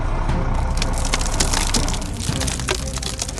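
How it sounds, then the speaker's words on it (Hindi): A loud, dense crashing rumble with cracking and crunching bursts, like a large structure giving way, sustained throughout. "अचानक एक भयावह गड़गड़ाहट के साथ सब कुछ ढह जाता है"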